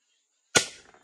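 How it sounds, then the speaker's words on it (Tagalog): A single test-fire shot from a Tokyo Marui 1911 spring airsoft pistol, one sharp snapping crack out of silence followed by a brief rattling decay, close and alone. "Okay, pumasok. Ayan yung unang putok."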